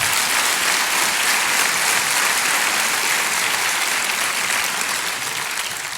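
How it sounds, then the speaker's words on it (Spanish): Congregation at a church worship service applauding steadily for God, a dense sustained wash of many hands that stays loud throughout and eases slightly at the very end, with no talking over it. "Dele ese fuerte aplauso a Dios."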